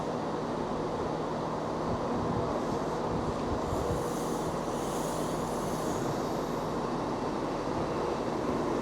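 A steady rumbling roar of a three-car ScotRail Class 334 electric train on the move around Edinburgh, with a constant electrical hum and rattling underneath, loud and unbroken throughout.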